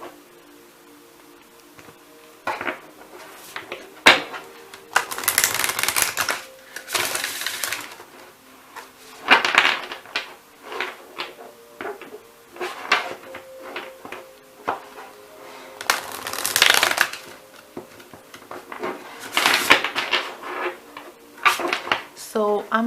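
Tarot cards are shuffled and drawn during a pick-a-card reading, heard as repeated close, crisp riffling and sliding bursts with soft taps between them.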